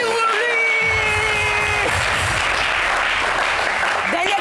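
Studio audience of a French TV show applauding steadily for several seconds, broad and dense, with a shout rising over the clapping.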